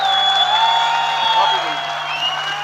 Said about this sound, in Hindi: देखो तालियां।